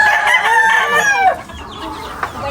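Chickens and a rooster at a rural Filipino home, close and loud: a rooster's harmonic crow fills the first second and a half, followed by scattered clucks and a short sharp squawk near the end.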